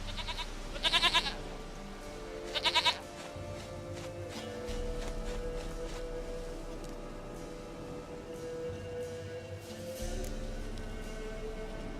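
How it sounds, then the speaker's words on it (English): Two short bursts of goat bleating from The Witcher 3: Wild Hunt, each about half a second, clear over a low, steady game ambience and music bed, with no talking. "Goat of mine, dearest, sweetest goat."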